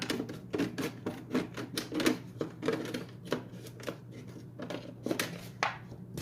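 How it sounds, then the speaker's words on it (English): A plastic jug is cut with a pocket knife and then scissors, giving a run of quick, close, crisp snipping and crackling clicks in an uneven rhythm, fairly faint and with no talk. "starting to cut around the whole thing with the pocket knife, and then I finish it off with the scissors."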